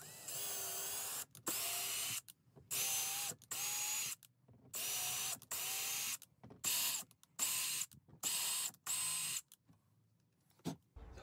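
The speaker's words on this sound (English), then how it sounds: "Now going to tap the holes." Threads are tapped into drilled pilot holes during a van build's diesel heater and water tank fitting. Loud, close mechanical whirring comes in about a dozen short, regular bursts separated by brief silences.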